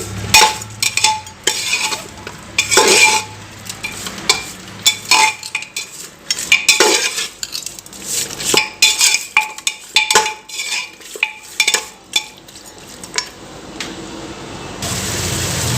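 A spoon stirring mutton with spices and oil in a metal pan, giving repeated clinks and scrapes in irregular bursts, close and fairly loud, with no talking.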